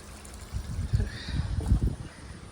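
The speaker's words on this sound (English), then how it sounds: "get some more water to these black cherries that are in pots that are way too small." Water poured from a hose or can into small pots of young black cherry plants, a soft irregular splashing and trickling close by with no talk.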